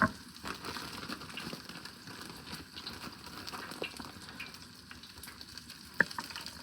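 Sausage for jambalaya sizzling and crackling in a hot pan, a steady frying hiss with small pops and one sharper clink near the end.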